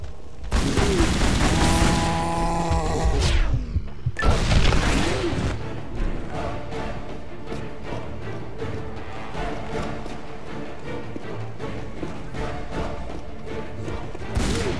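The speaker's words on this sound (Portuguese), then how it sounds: "Vou testar essa arma aqui que eu ainda não testei." A weapon in Tomb Raider Anniversary fires in quick repeated shots amid game music. A sharp blast and crash come early, then a steady rapid stream of gunfire follows.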